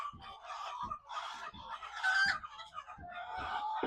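Chickens cluck repeatedly inside a poultry house, with a rooster-like call rising in the middle; the bird sounds are close and fairly loud, coming in short bursts with no talking.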